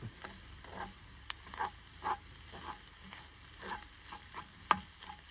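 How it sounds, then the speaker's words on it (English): Wild mushrooms sear in a hot pan, giving a quiet, steady sizzle broken by soft, irregular clicks and scrapes as they are stirred and turned. "Turn the heat up just a smidge. Try to get a little sear on it."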